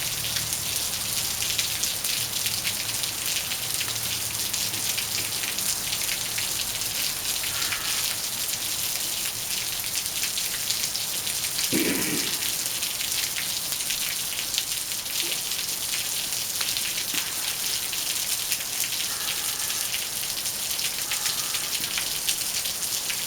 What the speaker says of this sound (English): Now I'll shut up and just let you enjoy the sounds and sights of rain.